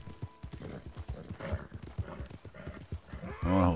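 A horse's hooves gallop in Red Dead Redemption 2 in a fast, steady rhythm, close and clear, ending with a horse's whinny.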